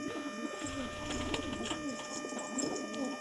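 Pigeons coo steadily inside a coop full of birds, overlapping soft rolling calls filling the space at close range, with no talking.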